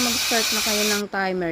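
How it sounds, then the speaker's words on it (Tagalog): Pressure cooker hissing steam while Filipino adobo with salt, onion and garlic cooks, a steady loud hiss running under a woman's speech throughout, briefly dipping near the end. "kapag narinig nyo na yung ingay ng pressure cooker na ganito"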